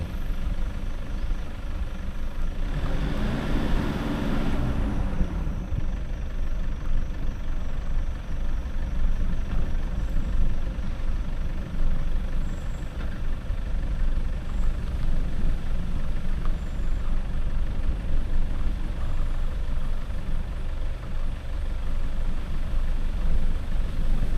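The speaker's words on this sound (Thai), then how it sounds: "ให้ลองสังเกตจากเสียงเครื่องยนต์ผมดูนะครับ ลองฟังเสียงดูจุดไหนผมเร่ง จุดไหนผมผ่อนนะครับ" A vehicle engine on a steep, scenic route, heard close as a loud, continuous low rumble that rises and eases off over a long stretch, with steady road and wind noise and no talking.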